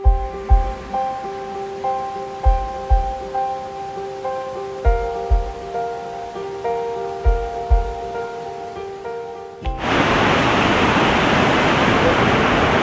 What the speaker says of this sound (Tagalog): Naririnig ninyo yung lagaslas ng malakas na tubig.